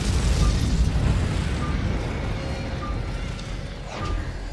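A house explodes in the film The Collector: a loud, deep explosion rumbles with heavy low-end roar that slowly fades over several seconds, with a faint high whine and a brief crackle near the end.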